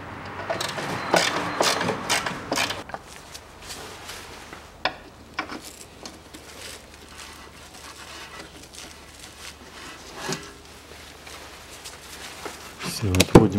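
Fasteners being unscrewed from the wheel arch liner of a 2011 Range Rover Evoque 2.2 lifted with its wheel removed: a burst of rapid clicking, rattling tool work at first, then sparse knocks and clunks against quiet workshop background.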